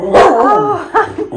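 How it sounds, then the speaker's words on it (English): A 130-pound Bernese Mountain Dog gives a close, loud, deep bark that drags into a whining, yipping vocalization, with a second short bark near the end. "My sister's dog, the 130-pound Bernese Mountain Dog, is here for the weekend."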